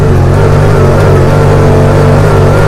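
A 2019 Honda Pioneer 1000 UTV with a 1,000 cc engine accelerates uphill through soft sugar sand, its loud, close engine droning steadily with a sustained revving hum.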